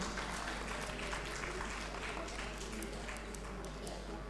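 Audience applause honouring a guest at an Arya Samaj provincial convention in Jammu and Kashmir: a steady, dense wash of clapping that holds at an even level for the whole stretch.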